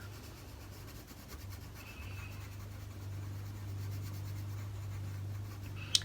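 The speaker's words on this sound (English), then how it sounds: "I'm going to use colored pencil for this one." A coloured pencil scratches steadily across paper as a stripe is filled in, a soft, continuous rubbing close by under a low background hum, ending in a brief sharper tap.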